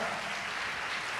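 Steady wash of applause from a church congregation during a worship service, dense and continuous at a moderate level with no voices standing out.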